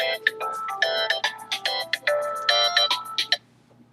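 A phone rings with a melodic electronic ringtone: a quick repeating pattern of bright beeping tones, close and clear, before it cuts off near the end.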